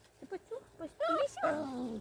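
A puppy whimpers and yips in a short run of high, wavering cries, rising at the end into a longer whine, with quiet talk nearby.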